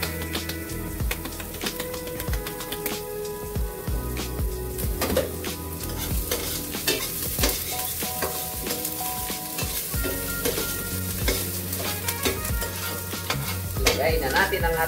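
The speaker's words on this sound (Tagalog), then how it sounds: "Habang niluluto natin yung bawang, sibuyas, luya natin" Garlic, onion and ginger sizzle in a pan while a utensil stirs and scrapes them in quick, irregular strokes, with frequent clinks and taps against the metal over a steady frying crackle; no one speaks.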